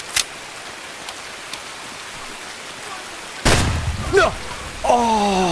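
Heavy rain pours steadily in a game match, a dense hiss that swells loud partway through, joined by a sharp shout, brief thuds and rising tonal effects near the end.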